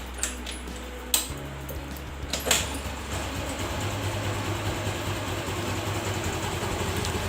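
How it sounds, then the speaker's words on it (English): A warm carbureted scooter engine cranks with a few sharp clicks, then catches and settles into a steady low idle that runs on to the end. "Let's start the engine."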